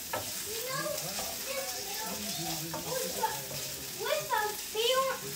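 Garlic frying in a pan while making a smoked chicken curry gives a steady, close, crackling sizzle that runs throughout, with voices talking over it at intervals.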